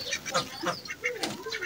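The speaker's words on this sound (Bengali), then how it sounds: "সকালবেলা আজকে আমার হাঁসগুলো খাঁচা থেকে বের করলাম।" Domestic ducks just let out of their cage in the morning quack and honk in quick, nasal bursts, several calls overlapping close by.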